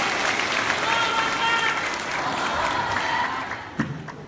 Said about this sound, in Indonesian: Sekali lagi kasih tepuk tangan.